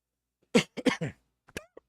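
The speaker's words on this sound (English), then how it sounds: "Still coughing like a motherfucker." A few short coughs in quick succession, fairly quiet, with brief pauses between the bursts.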